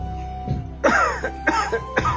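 A few harsh coughs close to the microphone, three or four bursts in quick succession with throat-clearing sounds between them.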